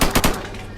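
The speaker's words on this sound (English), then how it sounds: "He's shooting." Video game gunfire cracks out in a quick burst of three loud shots at the start, then fades into a ringing tail, with no talk over it.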